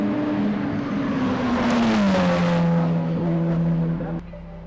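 A K24-engined Ferrari race car at a World Time Attack Challenge 2023 track session, its engine screaming loud and close at high revs, pitch sliding down through shifts before dropping away abruptly near the end.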